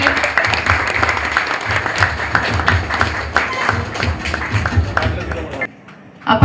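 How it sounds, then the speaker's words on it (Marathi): An audience applauds loudly at a police ceremony returning stolen belongings to their owners, a dense continuous roar of clapping with voices mixed in, cutting off abruptly near the end before a brief final burst. "प्लीज जोरदार टाळ्या झाल्या पाहिजे"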